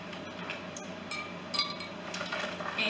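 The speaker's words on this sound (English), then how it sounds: "We're going to add a few ice cubes." A few ice cubes dropped into a drink or pool of liquid give light clinks and small splashes, several separate taps spread across the moment over a low background.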